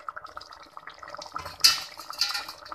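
Ground coconut water is poured into a boiling curry, producing soft liquid splashing and trickling with a light clink of a pot or utensil, close and fairly quiet.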